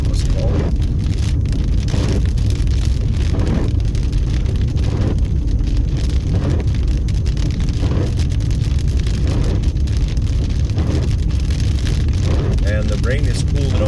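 Steady rain hisses across the whole stretch alongside rumbling traffic on a street in East Las Vegas, with a few brief louder bursts and faint chirps near the end.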